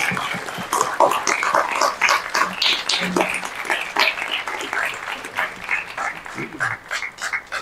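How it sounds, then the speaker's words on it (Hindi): Audience applause at an Indian award ceremony honoring a Vedic scholar, brisk continuous clapping with sharp individual claps standing out, loud and sustained throughout. "तालियों की गड़गड़ाहट में कमी ना रहे।"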